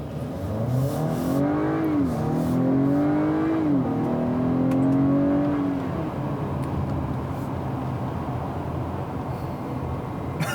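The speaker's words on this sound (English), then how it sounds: "we're gonna put it into its Sport Plus mode here from this NSX inspired knob, and then we're gonna floor it" A 2019 Acura RDX A-Spec in Sport Plus mode accelerates at full throttle from inside the cabin. The engine note climbs through rising pitch sweeps for several seconds, then settles into a steadier road-and-engine drone.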